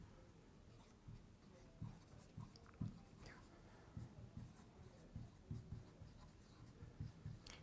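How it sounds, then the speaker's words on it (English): Marker writing on a board, quiet squeaky strokes in irregular bursts, faint and close, with no talking. "So I'm just going to write that up."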